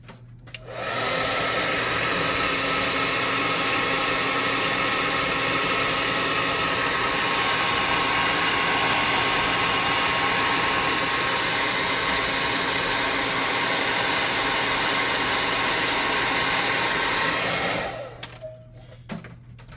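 A hair dryer blows steadily for about seventeen seconds, loud and close, drying paint on a tabletop swamp terrain piece for a tabletop roleplaying game, then cuts off abruptly with a few clicks.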